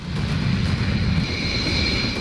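Rafale fighter jets scrambled by the air force near Imphal airport, a steady loud jet roar with a whining high tone, continuous throughout.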